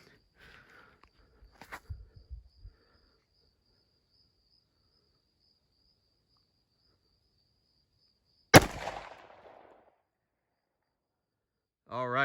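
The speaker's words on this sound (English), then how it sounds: "we got the 180 grain XTP loaded in here. It's gonna be fun shooting this one-handed" A 10mm pistol loaded with 180 grain XTP rounds is fired one-handed: a single sharp, loud gunshot with a short decaying tail, preceded by quiet handling and followed later by a burst of voice.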